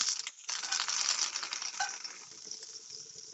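Butter dropped into a hot pan for crepes, a bright loud sizzle that starts abruptly and settles into a steady hiss with faint crackles.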